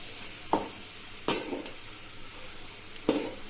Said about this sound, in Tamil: இப்போ இந்த வெல்லமும் தேங்காவும் ஒன்னா சேர்ந்து திரண்டு வரும், அது வரைக்கும் கிண்டணும்